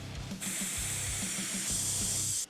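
Air hisses steadily out of an Ariel Rider Grizzly V3 electric scooter tire as it is deflated, a loud continuous rush lasting about two seconds before cutting off sharply.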